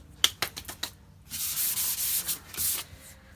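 A few light taps, then sandpaper rubs back and forth across a painted wooden headboard in a short, close, scratchy burst.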